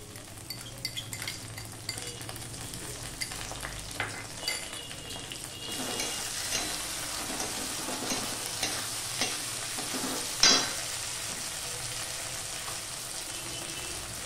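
Onions and ginger fry in a pan, a low sizzle that grows louder partway through, with a spoon scraping and clinking against the metal pan in irregular strokes and one sharper knock.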